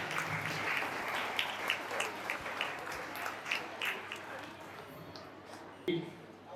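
Audience applause for a young student who recently earned a college seat, a steady wash of clapping from a crowd indoors, continuous for several seconds with faint voices mixed in.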